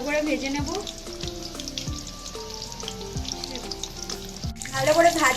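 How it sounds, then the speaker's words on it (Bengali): Food sizzles and crackles steadily in hot oil, with a few clinks and stirring knocks against the pan throughout. "ভালো করে ভেজে নেব ভালো করে ভাজা"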